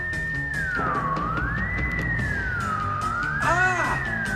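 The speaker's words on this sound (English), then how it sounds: "flips a switch on the strange circuit-studded gadget in his hand, and at once the air is filled with a piercing, ear-splitting sound" A piercing electronic sonic disruptor gadget wails in a loud, continuous tone that sweeps slowly up and down, rising to a sharper warbling burst near the end.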